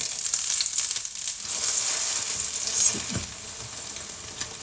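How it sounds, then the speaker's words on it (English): Scrambled egg hits a smoking-hot oiled pan and fries with a loud, continuous hiss and crackle that holds steady throughout, with no voices. "when the pan is getting hot, so you can see the smoke, so you put the scrambled egg in"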